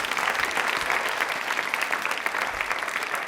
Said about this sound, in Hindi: तालियां एक बार जोरदार बजा दीजिए प्लीज